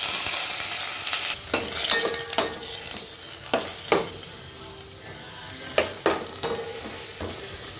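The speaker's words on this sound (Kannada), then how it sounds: "ಆಯಿಲ್ ಹಾಕ್ಕೊಳ್ತಿದ್ದೇನೆ. ನೋಡಿ, 2 ಏಲಕ್ಕಿ ತಗೊಂಡಿದ್ದೀನಿ, 2 ಎಲೆ ತಗೊಂಡಿದ್ದೀನಿ. ಇಲ್ಲಿ ಒನಿಯನ್ ಹಾಕೋದು." Onions frying in oil in a pot with cardamom and bay leaves for a soya curry, a steady close sizzle broken by several sharp scraping stirs of a utensil against the pot.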